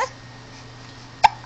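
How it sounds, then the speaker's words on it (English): A single short, sharp hiccup pops out near the end after a quiet stretch, close and distinct. "Oh goodness, that was a hiccup."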